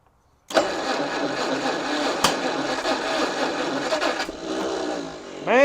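A roughly 50-year-old rare car's engine cranks with a warm starter and coil, catching and running rough and skipping at a steady loud level before a rising whine at the end; no talking.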